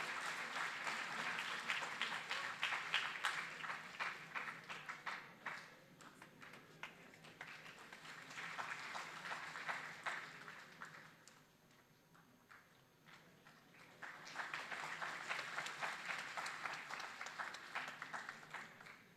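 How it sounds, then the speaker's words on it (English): A conference audience claps steadily for a chief guest in two sustained bursts with a quieter dip between them, dense hand claps at moderate distance. "give a big round of applause for our Honorable Chief Guest"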